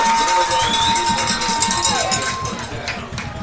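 Crowd at a Friday night high school football game, Catoosa Indians at Pryor Tigers, roars and cheers steadily in the stands, with a rhythmic band or drum beat underneath and a commentator talking over it.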